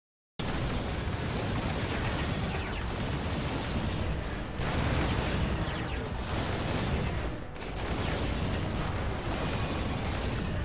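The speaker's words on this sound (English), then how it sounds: "Roof collapse." A roof collapse in RimWorld during a Star Wars Mandalorians playthrough brings a sustained loud rumbling, crashing roar lasting many seconds with slight dips, with no talk over it.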